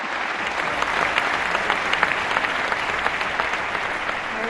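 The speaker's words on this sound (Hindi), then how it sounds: "जोरदार तालियों से स्वागत करें वहीदा जी का" At the Dadasaheb Phalke Lifetime Achievement Award ceremony, a large audience gives Waheeda Rehman a warm welcome with sustained, even applause, many hands clapping steadily at close range without interruption.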